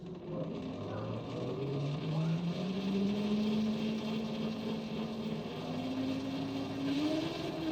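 A battery-swapping electric motorcycle powers up as it is started, giving a faint, steady whine that slowly rises in pitch over a low background hum.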